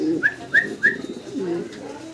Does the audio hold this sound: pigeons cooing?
yes